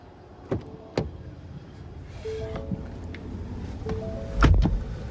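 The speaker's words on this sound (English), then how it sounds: "now let's go ahead and hop in the driver's seat" Climbing into the driver's seat of a 2023 Ford Expedition: a few sharp knocks and clunks, short soft whirs and rustling, fairly quiet and close, ending in a thud, without speech.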